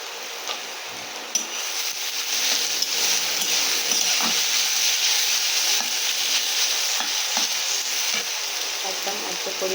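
Green chili and chopped potato sizzling in hot oil in a kadai, a steady close hiss from start to finish with occasional soft stirring knocks and no voices.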